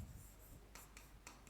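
Pen or pencil writing by hand on paper while working out a permutation count in a maths lesson, a few short scratchy strokes in quick bursts, close and fairly quiet, with no talk.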